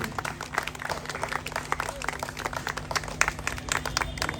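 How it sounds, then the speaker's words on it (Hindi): An audience at a memorial function applauds to welcome an arriving guest, a dense, steady patter of many hands clapping throughout, moderately near, with faint talk underneath. "आप सभी लोग तालियों से उनका स्वागत कीजिए।"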